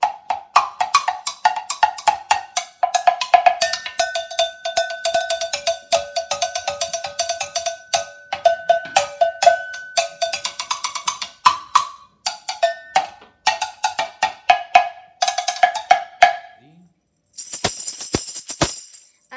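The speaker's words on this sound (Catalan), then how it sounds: "Aquestes són les campanes," Metal cowbells struck over and over in a percussion demonstration, sharp ringing strikes in quick irregular runs, close and loud, closing with a brief higher bright metallic burst.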